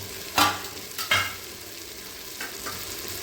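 Chicken biryani with ghee being stirred in a pot: a few scraping strokes of a spoon against the metal over a faint, steady sizzle, close and fairly quiet.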